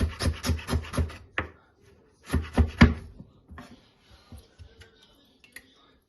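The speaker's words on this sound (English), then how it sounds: "We cut the ginger just the same" A knife chops ginger on a cutting board for vegetable juice in quick bursts of sharp, close taps, then pauses before lighter scattered taps follow.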